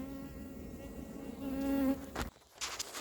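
Honey bees buzz around a beehive being moved near Fontainebleau, with a steady close drone that rises and then breaks off into a rustle and a brief bump.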